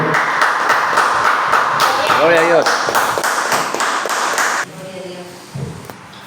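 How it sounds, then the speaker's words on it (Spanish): A church congregation claps loudly in a burst of applause while voices call out over it; the clapping stops abruptly partway through, leaving quieter speech. "denle un fuerte aplauso al Señor"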